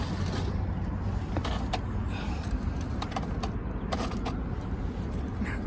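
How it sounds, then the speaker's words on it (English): A G scale garden railroad track cleaner car rolls along outdoor track with constant mechanical rumble, creaking and scattered clicks and rattles from the wheels and rails throughout. "The track cleaner's getting stuck."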